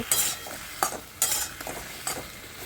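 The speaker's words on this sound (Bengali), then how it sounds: "এখন কুমড়োগুলোকে আরেকটু ভালো করে নাড়াচাড়া করে নেব।" Pumpkin pieces frying in a wok are stirred with a spatula, four distinct scraping strokes at a steady pace over a continuous low sizzle, close up with no talk.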